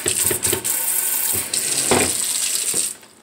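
Water runs from a kitchen sink sprayer in a steady hiss with brief splashy changes as the stream shifts, then stops near the end.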